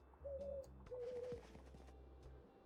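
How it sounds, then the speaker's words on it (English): Birds in a cozy video game give soft, low cooing calls when poked, two clear dove-like coos in quick succession over a quiet, gentle backdrop. "Pokey poke the birds"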